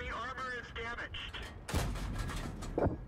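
A tank gun shot striking rock in the World of Tanks video game lands as a sharp, loud crack midway, followed by a rumbling tail and a second thud, after a man's speech at the start.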